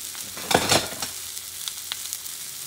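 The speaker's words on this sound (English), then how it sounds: "Now you're going to add the tuna. And you're going to let it cook." Tuna hitting a hot cast-iron pan sets off a brief burst of searing sizzle that quickly settles into a quieter crackle with a few small pops, close and without voices.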